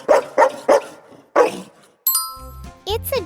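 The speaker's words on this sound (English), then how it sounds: "It's a dog." A farm dog barks four times in quick sharp bursts, loud and close, followed by a brief electronic chime and a bouncy cartoon jingle.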